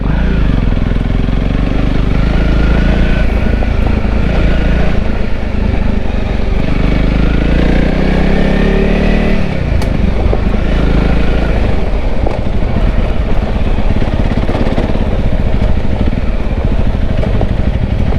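A motorcycle engine revs loudly and continuously at close range after a shift into second gear on a forest ride through Baluran, with the rumble rising and falling under steady wind noise.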